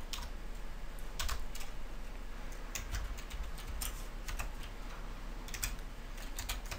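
Rapid, irregular keystrokes clatter on a computer keyboard while someone types code, close and clear over faint background hiss.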